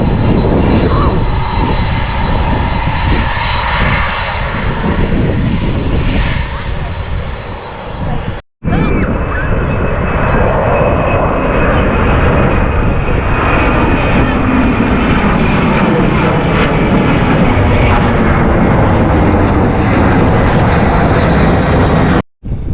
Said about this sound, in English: that was a good spot to watch some planes take off